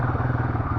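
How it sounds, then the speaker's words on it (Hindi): A motorcycle engine, a Guerilla, revs steadily with sluggish throttle response, a loud close low rumble holding through a short burst with no voices. "ये देखो मैं रेस दे रहा हूँ बट बाइक प्रॉपर नहीं उठ रही है।"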